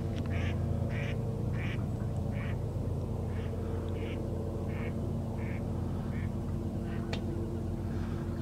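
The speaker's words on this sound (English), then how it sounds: "You got geese, mud ducks, and all kinds of ducks." Ducks quacking on a foggy lake where geese and mud ducks gather, a steady run of repeated quacks at moderate distance over a constant low rumble, likely from a nearby engine.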